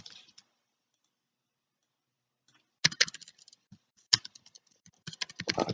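Typing on a computer keyboard: after a quiet pause, scattered bursts of close, crisp key clicks and taps come in quick irregular clusters, ending in a denser flurry of keystrokes.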